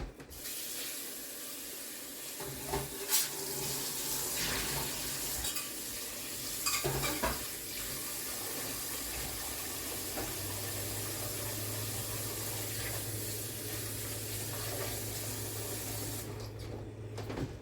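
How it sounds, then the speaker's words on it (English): Tap water runs steadily into a cooking pot for elderberry syrup, a broad continuous hiss and splash lasting throughout, with a low hum joining partway and a few clanks near the start. "Okay, so I've just run some water in my pot."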